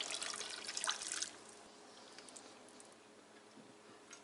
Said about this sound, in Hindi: ये चनों वाला पानी डाल लेते हैं।